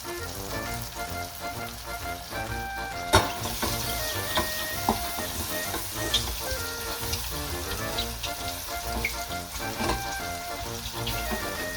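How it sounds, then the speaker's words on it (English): Mushrooms fry in butter in a pan, giving a continuous soft crackling sizzle with occasional louder pops and stirring clicks, heard alone without speech. "Don't forget from time to time to mix the mushrooms so the butter it doesn't burn and the mushroom doesn't burn."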